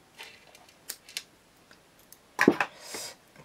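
Red scissors cutting paper during a craft job with double-sided tape: a few quiet, scattered snips, then a sharper, louder cluster of crisp cuts near the end, close up in a quiet room.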